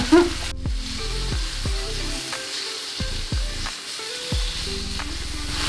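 Potatoes fry in a pan for a Bengali dish, giving a steady soft sizzle with repeated clinks and scrapes of a utensil stirring at close range.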